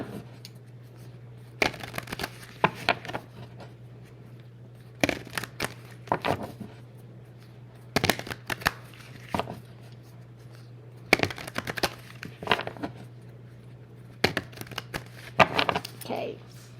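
A deck of cards is riffle shuffled again and again, each shuffle a brief fluttering burst close to the microphone, separated by pauses over a low steady hum.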